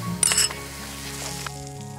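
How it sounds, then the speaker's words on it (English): Ginger and garlic paste dropped into a pan while making oil-free vegan dum aloo, giving a short loud sizzle near the start that fades into a low, steady frying hiss with a faint clink. "So now I'm going to add a little bit of ginger, which is in the form of a paste, and a little bit of garlic"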